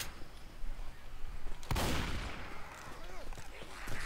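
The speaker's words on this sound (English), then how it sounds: "I just gotta test out the grenade launcher for a little bit" Grenade launcher fire in the video game Left 4 Dead 2, one sharp loud blast and burst in the middle standing out over a busy background of distant gunfire and game noise.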